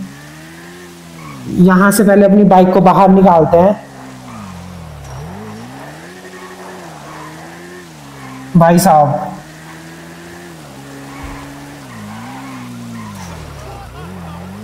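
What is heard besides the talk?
drift car tires skidding in video game GTA 5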